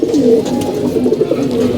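Pigeons coo softly and repeatedly close by, a low burbling murmur with overlapping calls and no voices.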